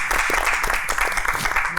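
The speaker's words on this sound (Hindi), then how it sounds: "तालियां बजाएं।" A studio audience claps at a Hindi game show after a round ends, steady dense applause mixed with crowd noise and some voices throughout the short burst.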